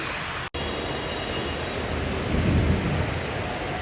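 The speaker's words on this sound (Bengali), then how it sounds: "দেখেন কত বৃষ্টি হচ্ছে।" Heavy rain pours in a dense, steady roar, and a low rumble of thunder swells near the end, with no voices.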